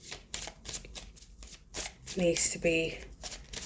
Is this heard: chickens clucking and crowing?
no